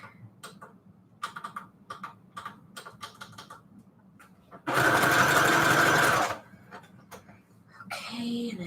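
A sewing machine zigzag stitches fabric onto manila tags, with clicky tapping of the mechanism, then a loud continuous whirring run of stitching lasting under two seconds, close to the microphone.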